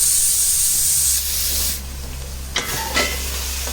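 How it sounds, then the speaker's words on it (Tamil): Onions sauté in ginger garlic paste in a pan for mutton biryani, a steady loud hiss and sizzle with a couple of brief stirring scrapes near the end, no talking. "இந்த வெங்காயம் இஞ்சி பூண்டில் நல்லா வதங்கட்டும்."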